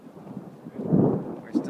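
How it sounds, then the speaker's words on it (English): Low rumbling thunder from a storm building over the Grand Canyon at Mather's Point swells and fades, a deep distant roll with a brief later surge and no clear talk. "A storm is brewing."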